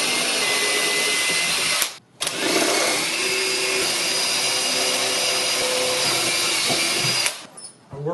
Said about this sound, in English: I'll start out with a 1/8 inch drill bit. Going partway through the door.